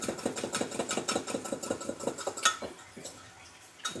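A whisk beats liquid in a container with quick, regular clinking strokes that slow and thin out toward the end, fairly close and moderately quiet.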